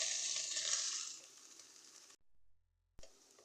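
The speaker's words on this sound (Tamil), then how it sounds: "எல்லாம் சேர்த்து வதப்போம்." Mint and coriander leaves sizzle in hot oil in a home kitchen pan during chicken biryani preparation, loud for about two seconds, then a sudden silence and a brief faint return.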